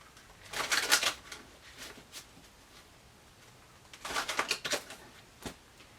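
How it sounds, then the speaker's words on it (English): Tarot cards shuffled in two close, crisp bursts of riffling and slapping, separated by a quiet pause and followed by a single tap, with no voice. "One more shuffle."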